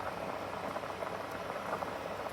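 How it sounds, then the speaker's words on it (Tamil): Parai fish curry bubbles in a covered pot on the stove, a faint, steady simmering hiss with soft irregular bubbling throughout. "கறி கொதிக்குது."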